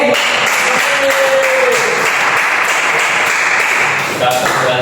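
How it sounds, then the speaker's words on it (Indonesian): Students in a high school classroom applaud a classmate with a steady, fairly loud round of clapping that fills several seconds. A few brighter taps and tones sound within it, and there is no clear talk over it. "Kita beri tepuk tangan untuk Oke."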